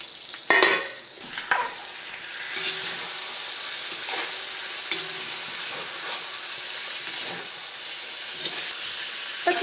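Chicken cooking under a lid in a pan over a medium flame for chicken mappas curry, giving a steady soft sizzle and hiss with a few clinks of the lid or utensils near the start.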